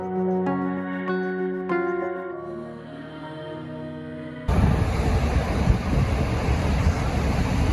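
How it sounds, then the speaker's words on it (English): A rough, rushing white-water river at the Ocoee White Water Center, swelling as water is released, starts with tonal ringing sounds before a loud, steady broadband roar of churning water takes over close by. "Water's getting rougher."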